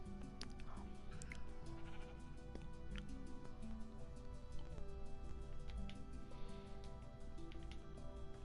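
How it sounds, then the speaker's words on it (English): A video game sheep bleats repeatedly in short clear calls over a busy, steady background of game sound, with no voices. "Why is there a sheep up here?"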